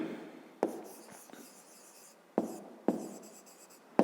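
Pen or pencil writing out a fifth-grade math exercise, a soft continuous scratching with a few sharp taps as strokes begin, close and quiet with no talk.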